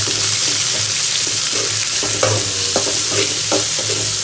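Finely chopped onions sautéing for chicken curry, a steady close sizzle with a spoon stirring and scraping the pan in irregular knocks, no voices over it.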